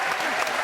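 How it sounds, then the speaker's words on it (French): Brief burst of audience applause from a studio crowd on a French television entertainment show, a steady wash of clapping heard only for a moment. "Applaudissements pour Tom Maquette, mesdames et messieurs."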